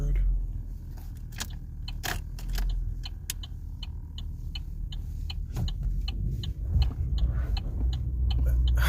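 A car rolls down a steep driveway, its engine and road rumble steady and close, with scattered clicks and rattles from the cabin over the low drone.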